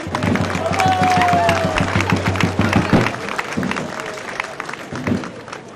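Audience applause for the mayor of Soulac-les-Bains, a senator of the Gironde, at a Soulac 1900 festival event, steady clapping over a rhythmic thumping beat and background voices, fading slightly after a few seconds.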